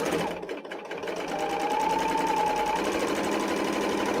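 An L860 overlock serger runs steadily at high speed, a continuous loud mechanical whir that starts after a brief pause and holds evenly to the end.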